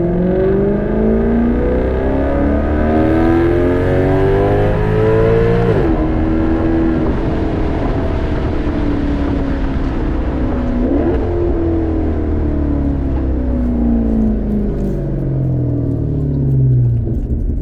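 A Maserati accelerates hard, its engine revving up through the gears with rising pitch, a brief drop at each shift, then climbing again. The sound is loud, close and continuous with no talking.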